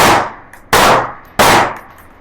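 Three sharp, loud pistol shots from a ported CZ P10C ring out at an even pace, each a close crack followed by a quick decaying echo.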